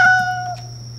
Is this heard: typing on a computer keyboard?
no